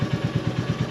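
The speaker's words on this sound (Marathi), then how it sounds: "बाईक आपण कोल स्टार्ट केली" A motorcycle engine runs at the start of a Castrol-powered riders' rally ride at Lonavla, with close, loud, evenly spaced thumping pulses from the engine.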